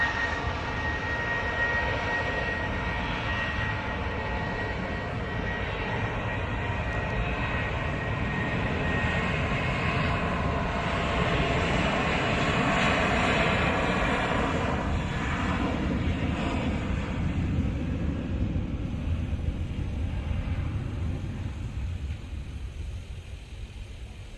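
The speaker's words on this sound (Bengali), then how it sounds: "বোয়িং সেভেন থ্রি সেভেন মডেলের রাষ্ট্রীয় বিমান সংস্থা বিমান বাংলাদেশ এয়ারলাইন্সের এই বিমানটি রানওয়ে ধরে এগিয়ে যাচ্ছে উড্ডয়নের জন্য" A Biman Bangladesh Boeing 737 rolls down the runway for takeoff, its jet engines a loud, sustained roar heard from nearby that swells steadily and fades slightly at the end, with no voices.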